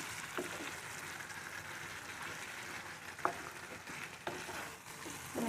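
Chicken meat for a local chicken gravy frying in a pan, a steady soft sizzle with occasional scraping stirs, fairly quiet throughout.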